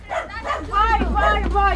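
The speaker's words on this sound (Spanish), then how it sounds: "¡Aquí hay perrito, Bessy!" A dog close by gives a run of short, high yips and barks, three or four in quick succession, loud and near, with a voice calling underneath.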